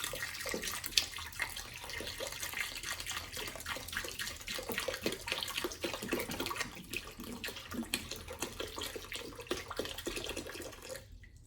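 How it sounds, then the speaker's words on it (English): Water pours and splashes continuously into a portable washing machine tub, a quiet steady gush for several seconds before stopping abruptly. "I'm gonna pour a little bit more water in here."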